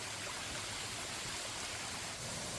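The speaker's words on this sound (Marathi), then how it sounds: "का सारखा धबधब्याची आवाज आहे?" A waterfall along a mountain trail near Kothaligad fort rushing continuously, a steady broadband roar of falling water heard alone and fairly close.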